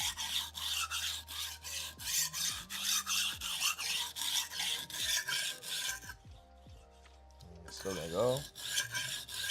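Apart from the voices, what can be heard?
sharpening a Shun knife to create a burr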